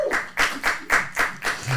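An audience claps in five or six distinct bursts of applause, each swelling and fading in a loose rhythm, fairly close and moderately loud, with faint voices underneath.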